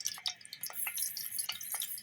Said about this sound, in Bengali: আমি শুরুতে সয়াবিন তেল দিয়ে ডিম এবং বড়ি ভেজে নিব।